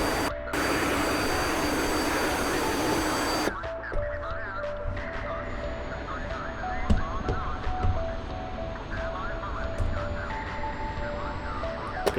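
MiG-15 jet aircraft in the DCS flight simulator game, a steady loud jet engine roar with a sharp change in tone a few seconds in, then continuing with faint clicks and tones.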